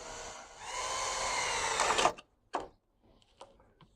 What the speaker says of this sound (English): all I'm going to do is going to take the drill, pop a little hole through the brace